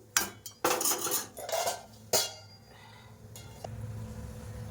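A metal lid goes onto a cooking pot of thin papaya curry with a few sharp clanks and scrapes of cookware close by, then a quieter stretch with a soft final knock.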